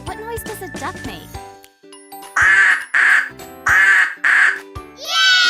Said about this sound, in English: What noise does a duck make?